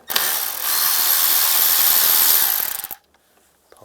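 A T20 screw being backed out of an interior panel on a 1999-2005 Volkswagen Jetta, heard as a steady, close whirring buzz of a driver lasting about three seconds before stopping abruptly, with no talking.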